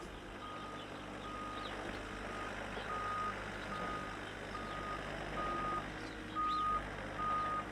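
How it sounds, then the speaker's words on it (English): A tow truck backs up with its reversing alarm beeping steadily at a regular rhythm, set against a continuous low engine rumble and faint outdoor ambience, with no one talking. "it looks like the tow truck, or whatever you call it, is just trying to get here"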